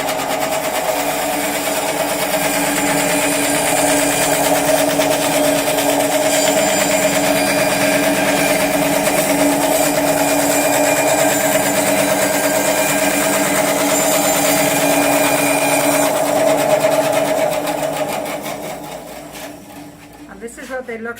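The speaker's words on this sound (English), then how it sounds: "now Anjy's going to split these in half using a 10-inch bandsaw" A 10-inch bandsaw with a clean blade hums loudly and steadily while it splits sunflower stalks in half. The motor note holds constant, then winds down near the end.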